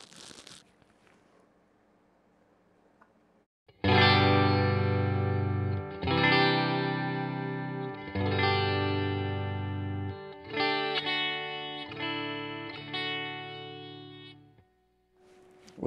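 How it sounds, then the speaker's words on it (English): A cheap relic-style electric guitar plays a clean tone through a Fender Deluxe Reverb amp with reverb on, sounding as sustained strummed chords with pauses between them after a brief quiet start. "Here is the clean. I do have reverb on my Deluxe Reverb."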